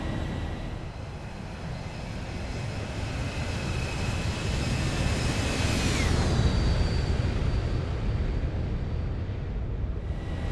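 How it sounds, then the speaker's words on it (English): Airliner engines spooling up during a night departure in the X-Plane 11 flight simulator, a steady loud roar with a rising whine that sweeps upward near the middle, continuous and without talk. "Airplane is starting to accelerate now."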